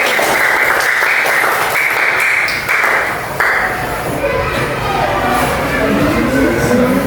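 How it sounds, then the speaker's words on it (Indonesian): Classmates applaud group 1 in a school classroom: a burst of clapping that thins and fades midway, giving way to mixed room noise and voices. "Beri tepuk tangan dulu untuk kelompok 1"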